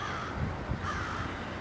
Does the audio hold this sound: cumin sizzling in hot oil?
no